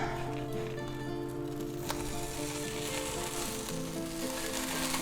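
A salami grilled cheese sandwich with tomato sizzles steadily in a pan, a constant crackling fry with faint stirring or shifting sounds and soft background hum.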